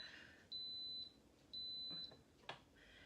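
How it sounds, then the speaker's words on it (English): Two steady high-pitched electronic beeps, each about half a second long, followed by a short click, from an Instant Pot pressure cooker in a quiet room as it starts building pressure. "those 3 beeps mean that it is now ready to start building its pressure"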